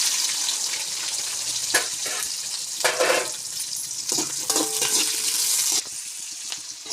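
Dried red chillies, onion, garlic and shallots frying in a pan for a spinach stir-fry, a continuous hiss with bursts of louder sizzling and stirring scrapes, close and uneven in level, no talking.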